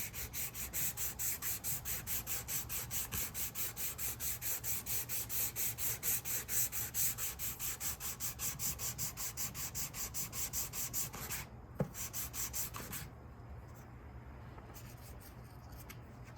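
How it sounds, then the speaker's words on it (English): A guitar body being hand sanded with sandpaper during a refinishing job, a close, steady back-and-forth rasping in a quick even rhythm, stopping near the end with a knock before a quieter stretch. "we're just sanding"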